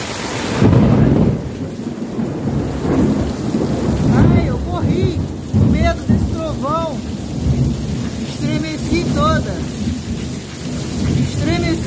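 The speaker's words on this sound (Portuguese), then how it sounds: "Olha a chuva descendo. É muita chuva." Heavy rain pours steadily during a Rio de Janeiro thunderstorm, with rumbling thunder rolling through and a constant loud wash of water; no speech.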